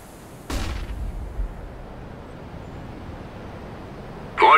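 In a Counter-Strike match, a sharp flashbang pop is followed by a sustained low rumble, then a brief burst of gunfire near the end, moderately loud against quiet background.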